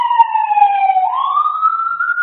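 Wailing emergency siren from an ambulance outside, a single loud tone sliding down then rising again, heard alone without talk.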